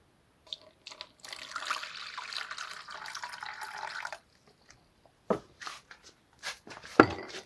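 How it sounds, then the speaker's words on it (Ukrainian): Water poured from a tap into a container holding crushed furacilin tablets, a steady trickling stream for several seconds followed by a few splashes and drips. "І наливаємо води."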